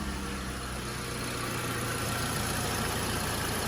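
A car engine with a misfire idles steadily and close by, a continuous low rumble and broadband hum with no talking.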